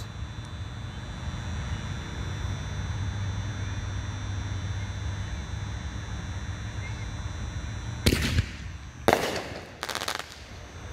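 A Wild Dragon Fireworks ball shell bursts outdoors at a fireworks demo, giving three sharp, loud explosive cracks in quick succession near the end, after a long stretch of steady low background rumble.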